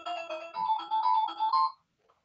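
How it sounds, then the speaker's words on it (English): An indoor boat siren plays a programmed electronic melody, a bright beeping tune of repeated phrases for nearly two seconds before cutting off, clear and close with no talk. "this indoor siren, it has lots of melodies you can program"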